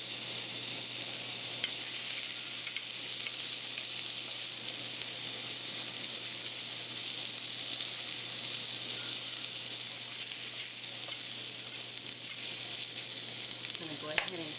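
Chicken pieces for sesame chicken frying in a pan, a steady loud sizzle and hiss running continuously with no talking, close up, with a faint clink near the end.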